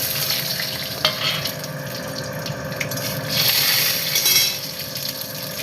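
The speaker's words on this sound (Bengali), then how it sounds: "তেল গরমের মধ্যে দিয়ে দেবো দুটো শুকনো লঙ্কা আর হচ্ছে কালো জিরে।" Dried red chillies and kalo jeera frying in hot oil in a home kitchen: a steady, close crackling sizzle that swells briefly, with faint stirring and clinks.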